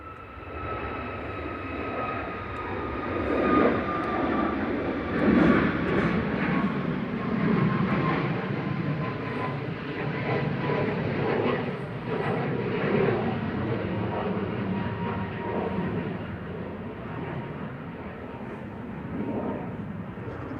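A jet airliner on final approach into Manchester Airport, its broad engine roar steady and fairly loud across the whole stretch, with a faint whining tone riding on top and no one speaking.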